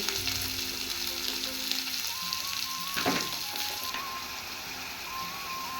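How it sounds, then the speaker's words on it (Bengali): Ginger, garlic and tomato fry in a pan with a loud, steady sizzle and a brief scrape of stirring partway through, with no one talking. "এটা দিয়ে একটু ভেজে দেবো আদা রসুন দিয়ে ভেজে নিয়ে দিয়ে দিলাম টমেটো"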